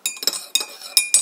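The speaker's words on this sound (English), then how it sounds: "Keep stirring until it's completely dissolved." A metal spoon clinks against the inside of a coffee cup as strong coffee is stirred to dissolve it, several sharp, close ringing taps in quick succession.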